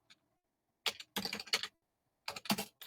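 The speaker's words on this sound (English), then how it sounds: "You don't need to watch me type" Bursts of typing on a computer keyboard, quick clusters of key clicks separated by short pauses, close and fairly quiet with no talking.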